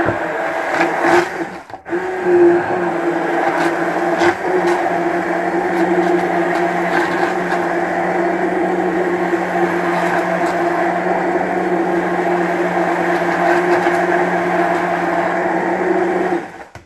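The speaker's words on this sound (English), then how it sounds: "Normal stick blender, and jam it in and juice the melon." A stick blender whirs steadily for most of the clip, a loud continuous motor hum with brief dips as it churns through watermelon, no talking.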